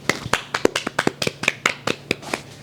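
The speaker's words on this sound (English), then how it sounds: "Round of applause for that." A few people clap in a podcast studio, a sparse run of distinct hand claps at an uneven rhythm, close and fairly light.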